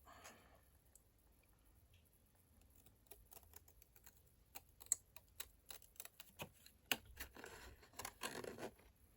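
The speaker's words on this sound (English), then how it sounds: "And then I'm going to cut that bottom bit." Scissors or a paper trimmer cutting the bottom edge of a paper card in card making, giving faint, close, irregular snips and crisp ticks in a quiet room.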